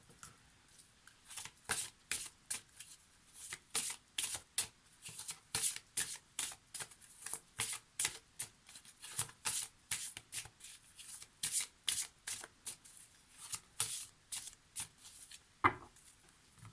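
Twin flames oracle cards are shuffled by hand in a quiet room, producing a long run of soft, rapid riffling bursts at an irregular rhythm, close to the listener.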